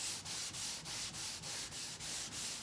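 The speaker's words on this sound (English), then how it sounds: "we'll sand a little bit more" Hand sanding auto body panel with a JTCAN 12-inch triangle sanding block, steady rhythmic back-and-forth rasping strokes, about three per second, close and even with no talk.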